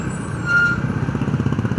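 A bus pulls into a roadside bus stop during a trip to Alibaug: a steady low engine rumble with a brief squealing brake tone as it slows, heard close by.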